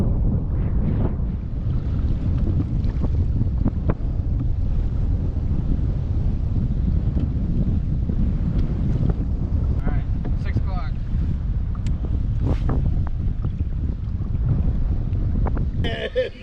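Steady, heavy wind roaring and buffeting close to the microphone throughout a kayak fishing tournament, with faint scattered sounds underneath.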